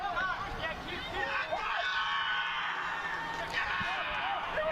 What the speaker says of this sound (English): Hear the fans here, Rose-Hulman getting into the game, cheering on their Engineers